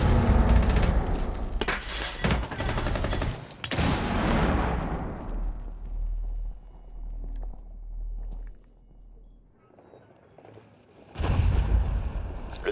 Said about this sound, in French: Détonation.